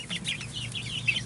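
Several chickens cluck and chirp close by in a newly built mobile chicken coop, or chicken tractor, with short, overlapping bird calls running through the whole moment over a low background hum.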